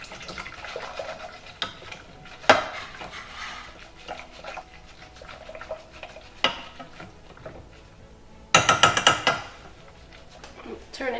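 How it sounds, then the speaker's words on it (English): A thickening vegan tart filling is whisked in a pot. Scrapes and clinks sound in bursts, with a quick run of sharp metallic taps near the end, all under a person talking throughout. "just make sure you're whisking it"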